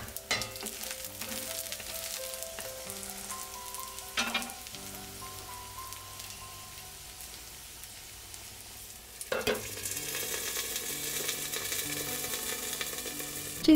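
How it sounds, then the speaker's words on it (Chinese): A scallion pancake fries in a covered pan, and oil spatters with a soft, steady crackle as the moisture cooks off. It is fairly quiet, with two louder clatters partway through and faint music underneath. "水分越来越少，变成了爆油的声音"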